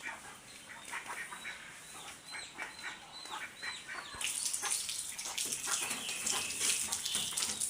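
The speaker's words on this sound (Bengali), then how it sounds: "এখন হাতটা ধুয়ে নিয়ে ভালো করে সাবান দিয়ে, বুঝছো?" Hands soiled with cow dung are washed with soap outdoors; poultry and ducks chatter and call nearby at first, then a loud, steady rush and splash of running water takes over for the remaining seconds.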